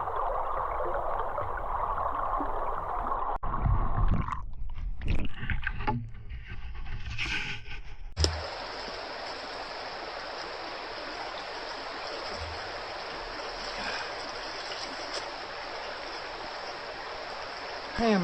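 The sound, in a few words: stream water flowing over a riffle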